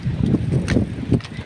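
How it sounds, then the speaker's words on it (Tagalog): Strong gusting wind buffets the microphone outdoors, coming in low rumbling bursts with brief lulls between gusts, no voices. "Medyo malakas po ang hangin."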